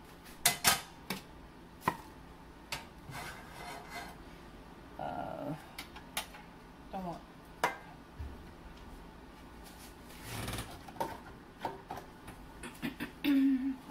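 A frying pan being pulled out and handled in a home kitchen, with a run of sharp metallic clanks and knocks, some close and loud, scattered irregularly over a quiet background.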